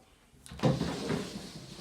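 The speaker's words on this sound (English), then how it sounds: "Sliding door." A sliding shower door in a white-tiled bathroom glides along its track with a short rolling rumble and soft knock, close and fairly quiet, with no talking.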